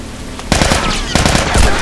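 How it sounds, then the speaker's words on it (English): Enemy gunfire in The Last of Us, rapid bursts of loud, close shots that crackle in two dense volleys separated by a short pause. "Stop shooting me."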